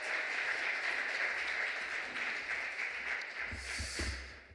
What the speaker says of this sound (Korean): 우리 따뜻한 환영의 박수로 모시도록 하겠습니다